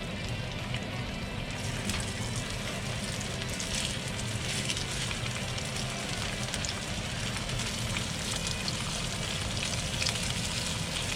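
Steady sizzling and crackling of pork frying in hot oil in a frying pan, a dense hiss throughout with no voices.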